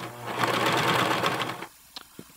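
A Janome HD 1000 sewing machine runs a straight stitch through thick layers of denim seam, a loud, steady whirring drone for about a second and a half before stopping, followed by a couple of faint clicks.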